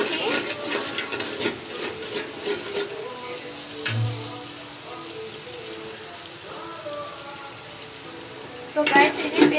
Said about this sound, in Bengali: এই যে পেঁয়াজ এখন ফ্রাই করে নিচ্ছি